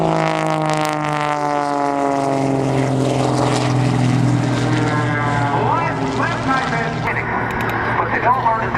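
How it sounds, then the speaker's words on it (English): A propeller-driven aerobatic airplane flown by Jim Leroy does snap rolls at the NAS Oceana airshow in 2005, its engine droning loud with shifting, sweeping pitch as it maneuvers, while an announcer talks over the PA. "Look at Jim Leroy, he snap rolls that airplane"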